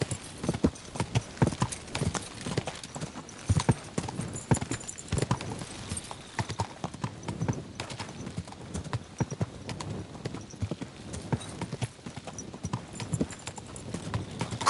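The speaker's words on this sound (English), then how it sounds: "Your horse nearly trampled me." Horse hooves clip-clop steadily in the video game Kingdom Come: Deliverance 2, a close, rhythmic trot of hoofbeats with faint background ambience and little talk.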